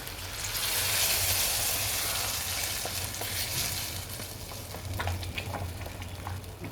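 Tempering of fried onion and tomato is poured into chickpea gravy: a loud, hissing sizzle bursts up, then settles into softer crackling and bubbling, close by and without speech.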